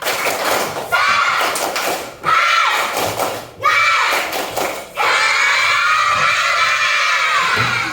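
A class of third-grade children performs a clapping spirit chant, shouting together in loud bursts punctuated by sharp rhythmic claps and thumps, several rounds in quick succession.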